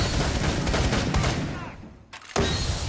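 Rapid video-game gunfire crackles in dense, loud bursts, fading out briefly near the end before a sharp shot cuts back in.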